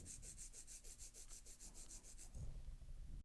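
A nail file drawn straight across the free edge of an acrylic nail being shaped square, about a dozen quick, even rasping strokes in close, quiet succession, then a duller rub as the filing stops.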